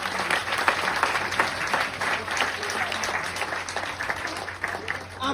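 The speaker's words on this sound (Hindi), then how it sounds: "एक बार ताली बजाइए" A large seminar audience claps together at a motivational business talk, steady dense applause holding at an even level throughout with some voices mixed in underneath.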